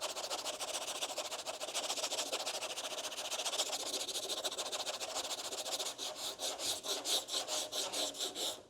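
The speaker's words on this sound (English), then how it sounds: "I'm sanding with this leading edge and the flattest footprint of this sanding block" A sanding block rasps back and forth over hardened Bondo body filler on a car panel, a steady gritty scraping that turns into distinct rhythmic strokes near the end, close and alone.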